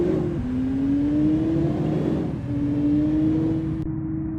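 Bus engine driving along a road in an Indonesia-set driving video game, a steady droning motor with a gradually rising tone that dips briefly before climbing again, loud and continuous with no talking.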